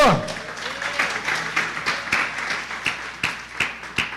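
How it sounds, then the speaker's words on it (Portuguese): A church congregation claps together for the Lord, a dense rolling applause that stays steady and moderately loud for several seconds with sharper individual claps standing out near the end. "Pode dar uma salva de palmas ao Senhor?"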